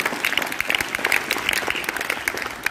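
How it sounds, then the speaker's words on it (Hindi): Loud, lively applause from an audience at a Mission Shakti program event, many hands clapping in a dense, steady wash for a few seconds without speech. "जोरदार तालियां इनके लिए।"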